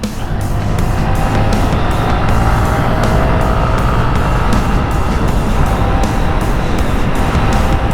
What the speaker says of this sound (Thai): ขี่รถเล่นนี่ดีกว่านะครับ เย็นๆ แบบนี้ก็ต้องขี่รถเล่นกันแบบนี้แหละ